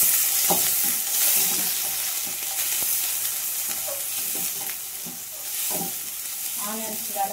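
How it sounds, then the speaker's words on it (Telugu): Onions and curry leaves fry in a hot pan for fish pulusu, a steady close sizzle with broad hiss, stirred now and then with scraping clinks while a voice talks quietly over it. "ఆనియన్స్ వేసుకుంటున్నాను. కరివేపాకు కూడా వేసేసుకుంటున్నాను."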